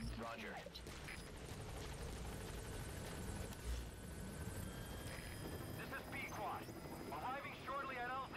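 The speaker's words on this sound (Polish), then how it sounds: "to już sobie wezwę sobie śmigłowiec." A called-in helicopter in the Metal Gear Solid V video game whirs steadily throughout, a continuous rotor drone layered with other game sound effects, no talking.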